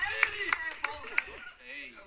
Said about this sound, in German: Applaus für Followers